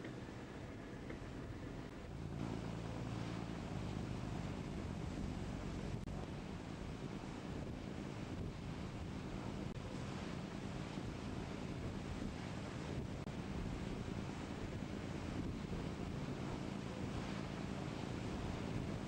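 Strong sea wind roars steadily across the microphone, mixed with the wash of waves and water while sailing, a constant, dense rushing noise with no voices.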